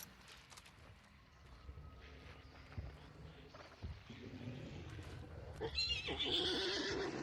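Dying horse in the game Hunt Showdown lets out distressed whinnies, faint at first then swelling into a louder, shrill neigh near the end, with scuffing movement underneath.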